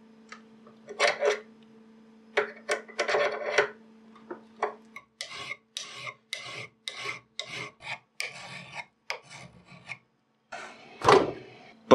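Metal workpiece filed while clamped in a vise: a series of short, rasping strokes in uneven rhythm, close and fairly loud, separated by brief pauses and ending with a harsher scrape.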